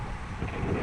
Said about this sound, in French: on se prend un vent de face, mais phénoménal